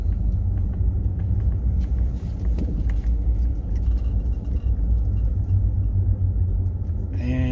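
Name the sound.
vehicle with trailer approaching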